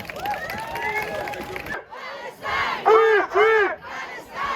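A protest crowd at a Boycott Barclays rally in Cardiff cheers and shouts, loud and close, in waves of massed voices with rising and falling calls and some clapping beneath.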